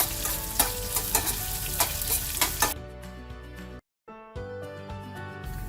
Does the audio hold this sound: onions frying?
yes